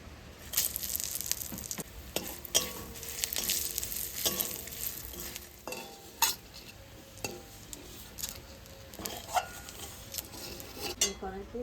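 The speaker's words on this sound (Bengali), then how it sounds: "জিরা তেজপাতা একসঙ্গে ভেজে নেব মাছ ভাজার তেলে এটা ভেজে নেব" Cumin seeds and bay leaves fry in oil left over from frying fish, giving a soft sizzle under frequent clinks and scrapes of a utensil against the pan, close and fairly busy throughout.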